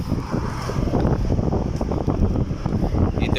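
Strong gusty wind roars and buffets the microphone outdoors at Al Khoud Souk in Muscat, Oman, as heavy rain approaches, loud and continuous throughout.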